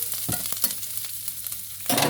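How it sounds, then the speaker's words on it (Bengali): Onion sautéing in a pan with oil, a light sizzle broken by a few clattering stirs of a spatula, the sizzle rising again at the end, no voices. "ওকে একটু সতে করে নেবো।"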